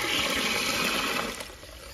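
Water rushes and gurgles steadily into a cattle drinking bowl on a dairy farm, close and fairly loud, easing off slightly toward the end with no talking.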